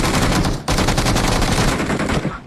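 UMP submachine gun firing in the mobile battle royale game BGMI, loud rapid automatic bursts of gunfire with a brief pause before another long sustained burst, close and alone.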